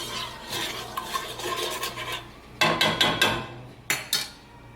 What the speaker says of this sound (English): Go ahead and grab a spoon and start stirring that around.